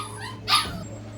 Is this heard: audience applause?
no